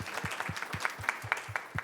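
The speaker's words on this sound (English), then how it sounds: "Please give her a round of applause." Audience applause at an art event held on a Sunday after church: steady clapping from a small crowd, close and moderately loud, with individual claps standing out, filling the clip with no talk.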